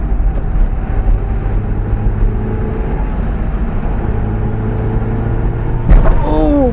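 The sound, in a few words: Mitsubishi Galant VR4 driven up a hillclimb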